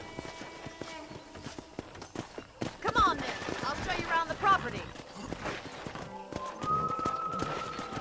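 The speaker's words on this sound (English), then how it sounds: "I picked out a fine horse for you." A horse's hooves clip-clop under a woman's speech, with a brief whinny and the scene shifting to an outdoor property.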